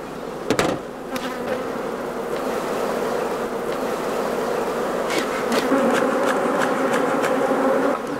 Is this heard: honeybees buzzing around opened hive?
yes